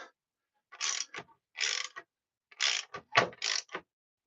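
A locked-up 2005 Honda CBR600RR motorcycle engine is turned over by hand, giving five or six short ratcheting, grinding bursts separated by pauses, close and fairly quiet.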